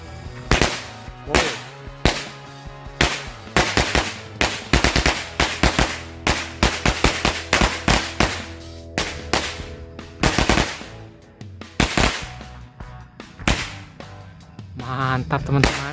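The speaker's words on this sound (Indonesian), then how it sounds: "Mercon korek." A long string of mercon korek firecrackers goes off at a New Year celebration, a rapid, uneven crackle of loud sharp bangs running for about sixteen seconds with brief gaps and clusters, close by and dominant.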